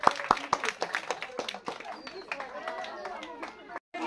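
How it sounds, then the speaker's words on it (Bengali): Village women's audience at an outdoor blindfold ball-toss game clapping in scattered, uneven bursts, mixed with crowd chatter and a nearby voice. "সবাই জোরে হাততালি দর্শক।"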